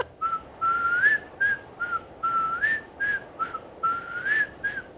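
A person whistles a short, bright, repeating melody of rising and falling notes in quick phrases, close and clear over faint background noise.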